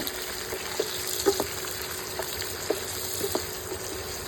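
Ingredients for a crab roast, including curry leaves, sauté in a pan: a steady soft sizzle broken by a few sharp clinks and scrapes from stirring, with a low hum underneath and no talk.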